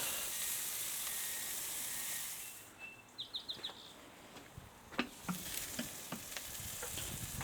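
Bacon-wrapped BBQ chicken frying on a grill, giving a steady hiss of sizzling fat with scattered sharp pops and crackles. Brief bird chirps sound in the background partway through.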